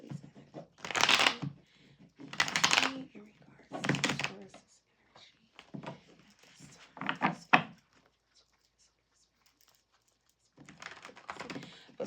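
Tarot cards are shuffled by hand in a series of quick, close riffling bursts separated by short pauses, crisp and papery, with soft thumps as the deck is squared.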